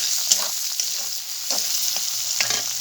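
Dried fish (shutki) frying in oil in a village-style kitchen, giving a steady broad sizzle with occasional sharper crackles and pops, close and continuous with no talk.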